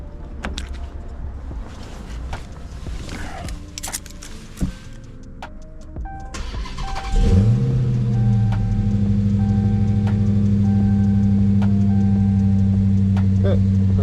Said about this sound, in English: let's start it up and see what we got going on.